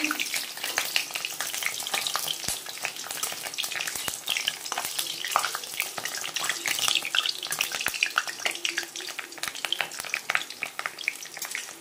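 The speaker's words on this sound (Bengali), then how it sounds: "তো এখন আমি ভাজবো হচ্ছে পাঁপড়। তো চলো পাঁপড় ভেজে নিই।" Papad frying in hot oil: a dense, continuous crackling sizzle that stays loud throughout, with occasional sharp clicks from utensils.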